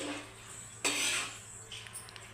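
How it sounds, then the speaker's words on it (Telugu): A metal lid is set onto a pot of cooking basmati rice, a single sharp clink followed by faint settling rattles in a quiet kitchen. "మూత అయితే పెట్టేస్తున్నాను."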